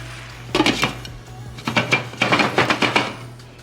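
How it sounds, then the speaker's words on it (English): Lid put on a pot of cooking cabbage in a home kitchen, several clattering metallic knocks in two close bursts, near and moderately loud. "Now I'm going to pop the lid on and let it cook for 20 minutes."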